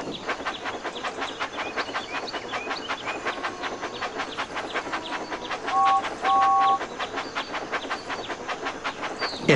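Toy-style train engine in the Thomas and Friends Magical Tracks video game, a rapid rhythmic chuffing and clicking that runs steadily throughout, with two short tonal beeps in the middle.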